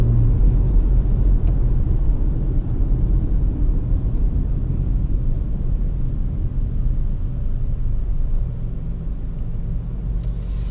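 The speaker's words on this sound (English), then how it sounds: "all you got to do is hit the gas when you are ready to move, and that brake hold button releases and lets you take off." 2019 Toyota RAV4 XLE AWD pulling away from a stop, a steady loud interior road and engine rumble with broadband noise that eases slightly toward the end, no talking.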